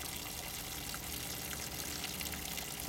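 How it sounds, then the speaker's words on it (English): Water pouring out of a chicken coop waterer container during an automatic dump and rinse cycle, a steady broadband gush heard alone outdoors, ending with a brief knock. "the water will actually dump out of the container"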